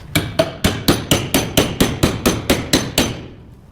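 Twelve quick, evenly spaced hammer blows ring out on a clamped oxy-acetylene gas weld, struck from both sides, close and loud, with a short metallic ring fading after the last hit.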